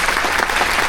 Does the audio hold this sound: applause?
yes